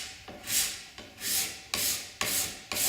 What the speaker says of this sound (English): Take your scraper. Initially, just scrape the top of the tenon.